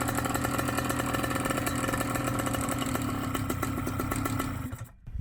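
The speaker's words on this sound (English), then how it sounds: "You gotta love how quickly this engine starts." A BlackHawk Titan 210 paramotor engine running close by, a loud, rapid, rattling two-stroke buzz that holds steady, then drops off abruptly near the end.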